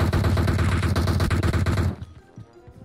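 Rapid automatic rifle fire from an M416 or SCAR-L in PUBG, a dense burst of loud repeated shots for about two seconds that cuts off into faint echoing tails.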